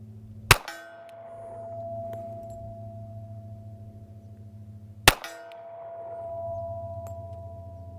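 Two sharp .45 caliber Luger pistol shots about four and a half seconds apart, each followed by the long, clear ring of a struck steel target that fades slowly over a low background hum.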